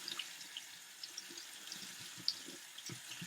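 Cold tap water runs steadily over garbanzo beans in a colander, a soft continuous rinse with faint splashes and patters, quiet and close.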